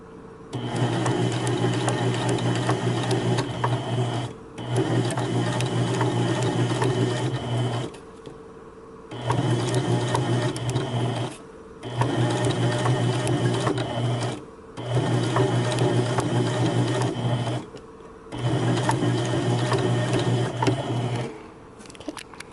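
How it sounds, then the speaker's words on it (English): A sewing machine stitches a Baby Yoda mask, running in about six steady, loud bursts of rapid whirring separated by brief pauses, with no voices. "now let's go sew it all together"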